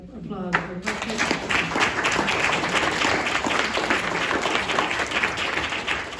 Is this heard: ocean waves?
no